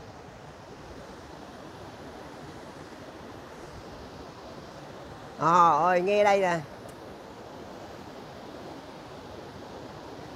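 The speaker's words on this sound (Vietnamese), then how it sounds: "Đẹp, nghe tiếng thác là nó đẹp." The Jrai Tang waterfall in Phu Yen, Vietnam roars as a steady, broad rush of falling water from start to finish, with a brief spoken remark cutting in over it midway.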